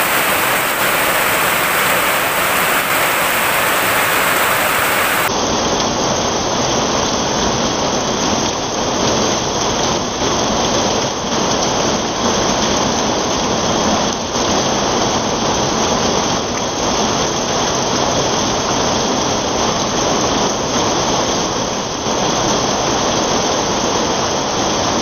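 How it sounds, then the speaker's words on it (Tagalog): Heavy rain pours steadily and loudly throughout, a dense continuous hiss of drops on surfaces, with no voices present. "Napakalakas ng ulan"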